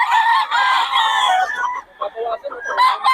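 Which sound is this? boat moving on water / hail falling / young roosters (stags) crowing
young roosters (stags) crowing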